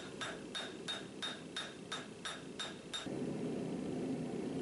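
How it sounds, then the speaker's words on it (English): A hammer flattens a forged tomahawk blade made from a farrier's rasp: about nine evenly spaced, ringing metallic strikes in a steady rhythm, then the blows stop and a steady background hum continues alone. "I use my other hammer just to flatten everything out and finish it up"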